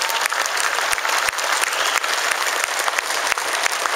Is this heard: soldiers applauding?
yes